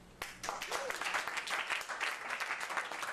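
A short burst of clapping breaks out from a room audience at a magic and hypnosis show, rising sharply and continuing unevenly, with a voice briefly heard over it.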